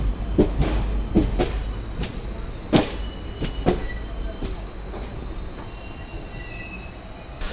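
A train rolls into Ottapalam station in Kerala with loud rhythmic clacks of wheels over rail joints, thuds of passing carriages and a thin wheel squeal trailing off near the end.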